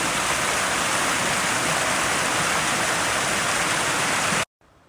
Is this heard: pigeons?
no